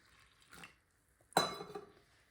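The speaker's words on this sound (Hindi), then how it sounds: "पानी डाल लेंगे।" Water is poured into chicken pakora batter in a bowl: a faint splash, then a sharper pour that trails off into quiet. No voices.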